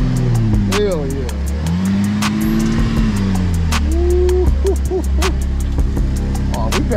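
A 2007 GMC Acadia engine revs as the gas pedal is pressed, rising and falling in tone through several short pushes, with loud excited voices talking and cheering over it.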